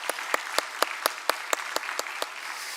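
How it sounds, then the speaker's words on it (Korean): A church congregation at an Easter Sunday service applauds the worship team: a steady bed of many hands clapping, with a few sharp claps standing out at an even, quick pulse. It is fairly loud and sustained, with no speech over it. "다시 한번 박수 한번 하겠습니다."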